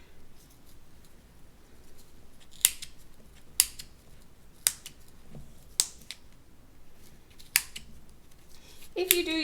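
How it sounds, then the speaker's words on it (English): Sharp scissor snips cutting yarn for pom poms at spaced intervals, about eight crisp clicks close by over quiet background. "If you do use scissors, give yourself time."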